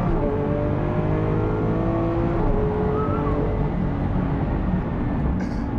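A Lamborghini Aventador SV engine pulls hard in third gear, its rising roar sweeping up before a quick shift drops the pitch and it builds again, loud and continuous from inside the car.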